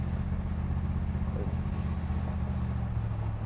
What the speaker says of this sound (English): this thing just motors right along. Motor runs pretty smooth too.